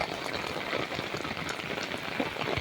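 Heavy rain pours over farmland in a dense, constant hiss of drops hitting surfaces, steady and enveloping with no voices.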